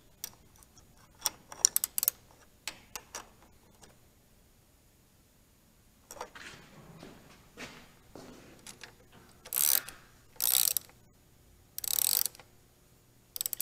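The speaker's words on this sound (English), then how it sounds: "We're going to snug both sides up just to take the slop out of the adjusters." Chain adjusters on a 1982-2003 Harley-Davidson Sportster are snugged with a hand tool, giving quick bursts of ratchet clicks, scattered metallic taps and pauses, ending in louder, longer clicking runs.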